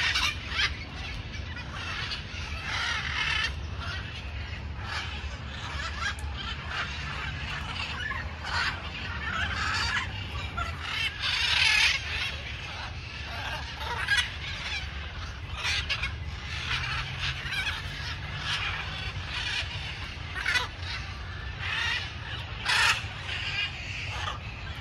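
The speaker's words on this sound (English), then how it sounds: "A macaw in Caracas." Wild macaws in a park in Caracas, Venezuela, squawk and call over and over. The harsh, fairly close cries run continuously through a busy outdoor background.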